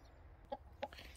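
Chickens in a farm coop give two quick, soft clucks over faint background noise.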